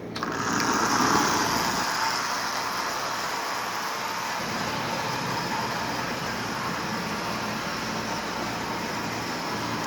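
A Marx 1998 diesel toy train tows a Lionel 3927 track cleaning car that scrubs oxide from the rails, producing a steady, close, high-pitched electric motor whir with a rolling, rattling hum throughout.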